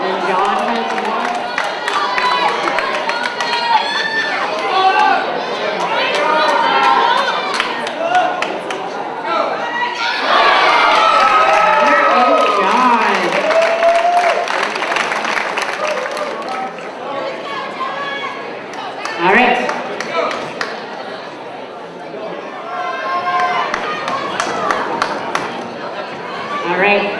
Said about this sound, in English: Cheering for Ontario.